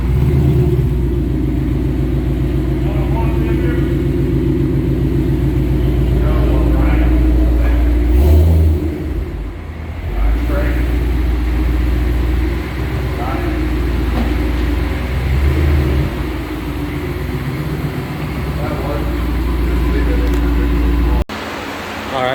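A 2013 Shelby GT500 being driven gives a steady, loud low engine rumble with road noise throughout, easing briefly partway through before carrying on, with no talking over it.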